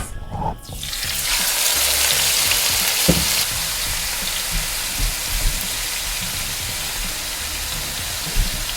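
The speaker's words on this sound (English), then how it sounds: "Now we're going to drop this in. It's going to sizzle." Loud, steady sizzling and crackling of chicken frying in a hot pan, starting with a sudden hiss and continuing without speech.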